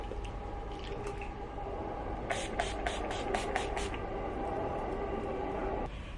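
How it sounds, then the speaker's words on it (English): Setting spray misted onto a face in a series of about seven quick, evenly spaced spritzes, close and clear over faint room noise. "I forgot setting spray."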